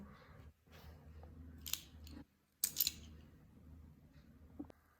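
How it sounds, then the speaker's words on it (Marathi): Several crisp scissor snips cut through soft fur wool in two short clusters, close by, over a quiet room hum. "फर वूल कट करण्यासाठी आपल्याला कात्री किंवा असे कटर पाहिजे"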